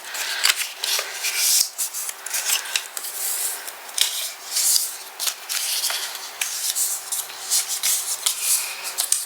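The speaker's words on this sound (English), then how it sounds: "I'm going to go ahead and fold those score lines" Paper is folded along score lines for a Halloween album, giving soft, close rubbing and creasing scrapes in irregular bursts with short pauses between.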